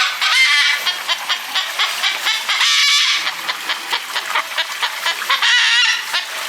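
Four cockatoos at a restaurant in Bali let out loud, harsh squawks close by, coming in repeated raspy bursts with short gaps and no talking.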